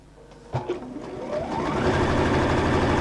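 A sewing machine stitching up the short end of a piece of fabric starts with a few clicks and a thump, then spins up into a fast, even mechanical whir that keeps going steadily. No one speaks.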